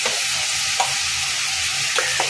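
Fried pointed gourd, potato and pumpkin are stirred with spices in a hot pan for a Bengali mixed vegetable dish, giving a steady, close sizzle broken by a few scraping strokes of a spatula.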